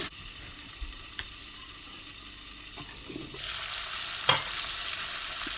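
Fried onions mixed with pounded ground spices are stirred in a pan while cooking sparrow gourd and pork, giving a faint steady sizzle with a few soft scrapes and a louder frying hiss toward the end.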